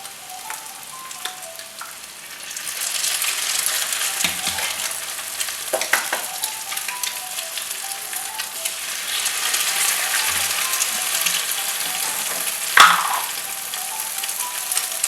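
Egg with bitter gourd cooks in a pan. A quiet start swells into a steady, bright sizzle with occasional stirring scrapes and one sharp clink near the end.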